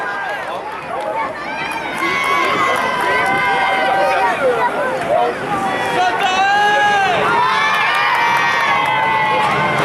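A crowd cheers and shouts loudly for the winner of a 2014 ABCA wrestling match in Quessy, a sustained roar of voices with an announcer talking over it throughout.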